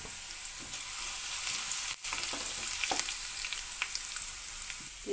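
Thinly sliced ginger and garlic sizzle steadily in hot oil for a salted raw mango pickle, a bright continuous crackle with occasional stirring scrapes, close and alone.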